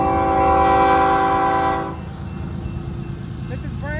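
Norfolk Southern freight train 20R led by the Pennsylvania Railroad heritage locomotive NS 8102 passing through Manville, New Jersey, sounds a loud, sustained chorded horn that cuts off midway, followed by steady rumbling of rolling cars and a brief squeal.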